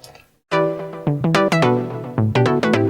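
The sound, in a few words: plucky saw synth with detuned pitch attack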